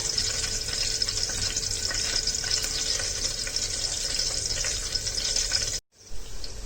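Onions fry in a pan on low flame, giving a steady, close hiss and crackle that runs almost unbroken before a brief drop near the end.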